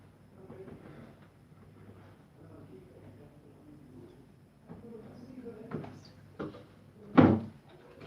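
A drawer shuts with a sharp, loud knock that stands out after a stretch of quieter handling noises and faint background talk.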